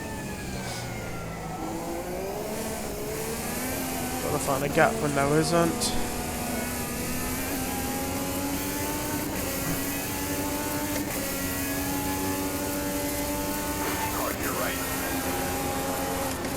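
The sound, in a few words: Indy car engine revving in the racing game Automobilista 2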